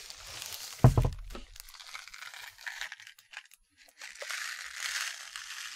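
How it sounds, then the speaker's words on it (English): A soft plastic bag from a Neato robotic vacuum box crinkles up close, starting with a sharp crunch and then rustling in irregular bursts with a short quiet gap. "I love these soft plastic bags with a very nice crinkly"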